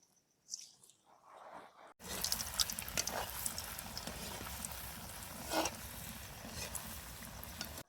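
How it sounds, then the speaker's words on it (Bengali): Boiled-potato sweets frying in hot oil, a steady broadband sizzle that starts abruptly and holds loud and close, with a brief surge of bubbling midway and faint handling noise just before it begins. "এবার তেল গরম হয়ে গেছে, তেলে দিয়ে ভেজে নেবো"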